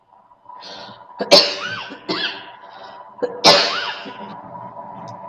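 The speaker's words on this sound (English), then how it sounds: "Sorry, I have a bit of cough." Two sharp, harsh coughs about two seconds apart, close to the microphone, with a murmur of background noise between them.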